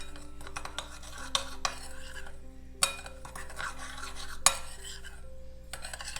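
Dry Santa Maria seasoning being stirred with parsley and garlic, light scraping and clinking of a utensil against a bowl in uneven strokes, close and fairly quiet over a steady low hum.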